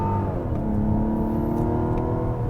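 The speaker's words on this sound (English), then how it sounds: "Now the engine really has a nice sound to it." A Mazda CX-70 SUV's inline-six engine, with augmented induction noise, accelerates with a steady, smooth, loud drone heard from inside the cabin and no talking.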